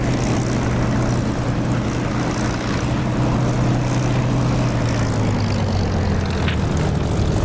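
An aircraft taxis off the runway in the DCS flight simulator game, a continuous droning engine hum with a steady low tone that slowly shifts in pitch, heard alone without voices.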